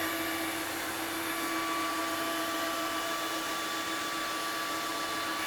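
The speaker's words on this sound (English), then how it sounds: "This Mova K30 wet dry vacuum is miraculous." A Mova K30 cordless wet-dry vacuum runs with a steady, even motor whine and airflow hiss while cleaning up a mess, close by and alone, with no voices.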